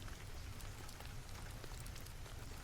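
Steady rain falls on a surface, a soft, even patter of many drops, faint and constant, no voices.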